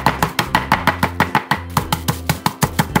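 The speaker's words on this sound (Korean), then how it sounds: "아니 그냥 칼로 썰지 이거를 왜 이렇게 방망이를 두들겨 가지고 이렇게 못생기게 만드나 싶으시죠?" Cucumbers sealed in a plastic bag pounded with a rolling pin, a steady run of about fifteen loud, close, evenly spaced thuds with no talk over them.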